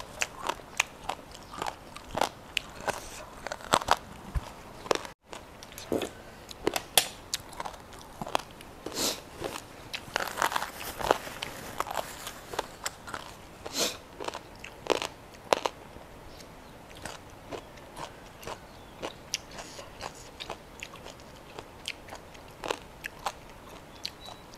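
Close crunchy biting and chewing of bamboo shoot curry with tender pork bones, steady moist munching with frequent crisp crackles running throughout, no talking.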